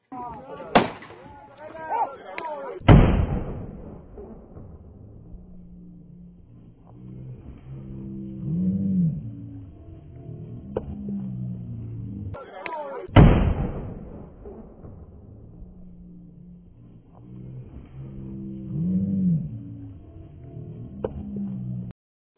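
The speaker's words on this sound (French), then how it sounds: "cet entrepreneur chinois qui tire sur ses ouvriers africains venus lui réclamer le paiement de leur salaire" Gunshots from a film scene of a man shooting at workers: sharp, loud cracks sounding in two spaced bursts, with shouting voices and commotion between and after the shots.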